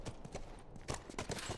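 Horse hooves clip-clop in a quick, uneven rhythm of distinct close thuds in The Last of Us Remastered, the steps faint but clear against a quiet background.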